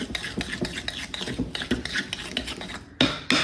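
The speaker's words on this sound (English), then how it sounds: "it doesn't take much just to break up those lumps of butter" Lumps of butter for a traditional cherry fruit cake are worked by hand in a bowl, rapid rhythmic rubbing and scraping strokes of a utensil, close up and moderately loud, with no talking.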